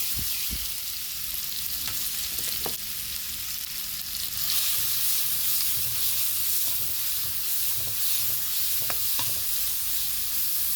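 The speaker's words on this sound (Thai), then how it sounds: "เราใส่พริกนะครับ พริกลงไปผัด" Chilies stir-fried in hot oil for a Thai fish dish, a dense steady sizzle and hiss with occasional spatula knocks against the pan, swelling slightly louder partway through, close up with no talking.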